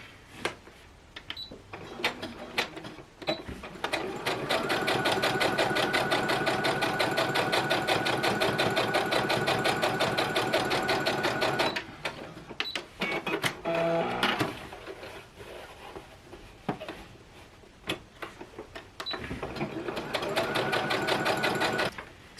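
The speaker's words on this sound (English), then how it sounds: "I will go to my sewing machine and sew the top and the bottom" A sewing machine stitching the top and bottom of a fabric face mask, running in long steady bursts with short pauses between, a rapid mechanical whirring and clatter heard up close.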